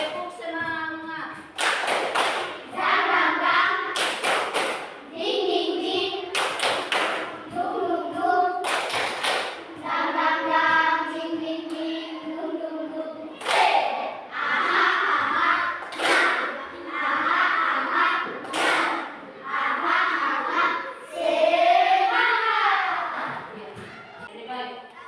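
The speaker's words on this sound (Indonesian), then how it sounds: "Ya, mari kita tepuk semangat." Children clap a rhythmic 'tepuk semangat' spirit clap in sharp grouped bursts, alternating with chanting and speaking voices, the claps loud and close against lively group vocals.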